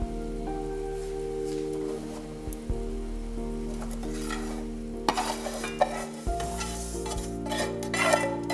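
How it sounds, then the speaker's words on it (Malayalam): Vermicelli goes into boiling water in a pan and is stirred, giving a steady close bubbling and sizzling hiss with scraping stirs and a few clatters. "വെർമസലി ഇതിലോട്ട് ഇട്ട് കൊടുക്കാം"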